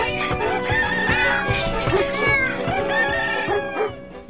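A rooster crows loudly and repeatedly amid a noisy barnyard chorus of animals performing together, from The Bremen Town Musicians, with clucking and other calls layered over a musical backing.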